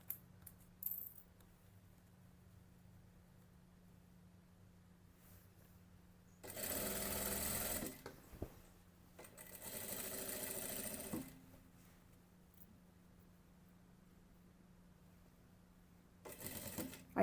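A sewing machine stitches a dress seam near a zipper, running in two loud, steady bursts of a few seconds each and a short final burst, with faint hum and quiet handling between runs.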